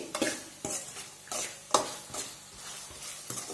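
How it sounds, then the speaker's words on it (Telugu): Maggi Magic Cubes fry in a hot pan as a spoon stirs them, giving repeated scraping strokes over a soft sizzle in a steady rhythm, close and fairly quiet, with no voices. "ఇలా వేసుకున్న తర్వాత అవి బాగా నలిగేంత వరకు ఫ్రై చేసుకోండి."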